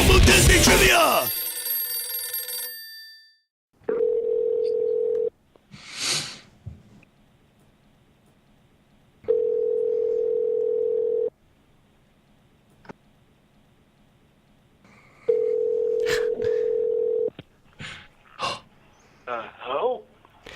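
A telephone at a phone booth in the United Kingdom Pavilion at Epcot plays steady tones in three long bursts between pauses, with key presses, breathing and brief handling noises in between, faint talk, and a loud noisy burst at the start.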